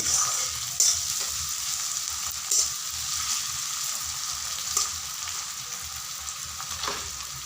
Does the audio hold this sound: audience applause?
no